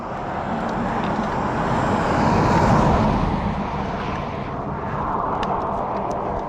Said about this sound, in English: these cars, they want to get around you as fast as they can and get on down the road